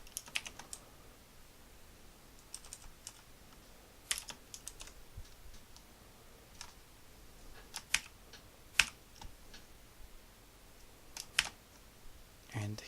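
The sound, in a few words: typing code on a computer keyboard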